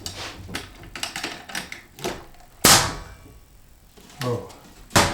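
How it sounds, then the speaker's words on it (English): Nails are hammered into thin ceiling battens while rebuilding a salvaged mobile home, sharp irregular strikes in quick clusters, some light taps and a few hard loud blows, with pauses between runs. "When I nail these, it might look like I'm putting a lot of nails in, because I am"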